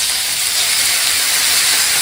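Water added to a hot pan of frying vegan tofu dumplings produces a loud, close, continuous steaming hiss and sizzle that holds steady without pause, with no speech.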